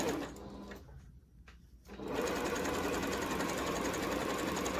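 Sewing machine stitching fabric for a beach bag, a steady continuous motor whir that dips briefly then runs loud and even, close up with no talking.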